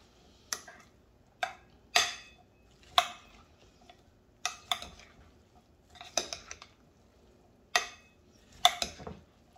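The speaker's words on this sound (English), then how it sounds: "I'm gonna give it, you know, another stir. Really get the jalapeno chunks, you know, mixed in well with everything else." A spoon scrapes and clinks through a bowl of chunky pico de gallo with jalapeno pieces, about a dozen short sharp strokes in uneven rhythm, close and clear with nothing else audible.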